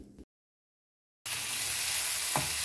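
Chopped tomato hits a hot pan of ginger garlic paste and fries with a loud, steady sizzle after a brief silence, close up and alone without talk.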